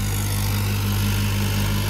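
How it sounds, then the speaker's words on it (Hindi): A New Holland 3630 Super tractor engine labours loudly in third low gear as it pulls out, a close, continuous heavy diesel drone with deep steady rumble throughout. "पूरे जोरों शोरों से आ रहा है ट्रैक्टर बाहर"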